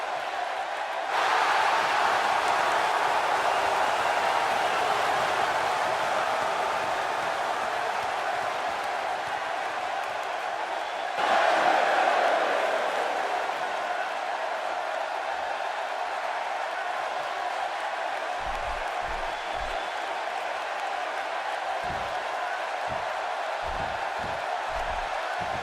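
Crowd noise from a WrestleMania 13 arena in WWE 2K16 swells into a steady, broad roar that lifts again mid-way, with announcer commentary running over it and a few low thumps near the end.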